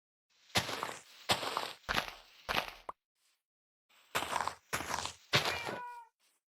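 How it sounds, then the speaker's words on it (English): A cat in the Minecraft video game meows loudly and close, with several short meows in two quick groups separated by a brief silence. "Cat is very loud, but where are they?"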